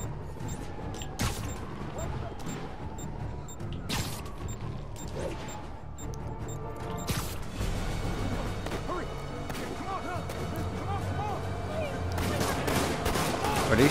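Gunfire in the Spider-Man video game, several sharp shots spread through the clip over a busy, rumbling action soundscape, fairly loud and near, with talk mixed in.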